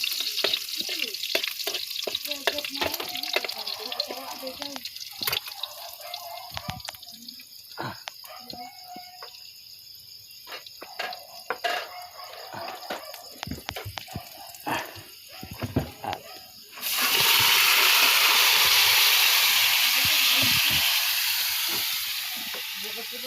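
Garlic sizzles in a frying pan with intermittent stirring clatter, then the sizzle swells into a loud, steady hiss near the end.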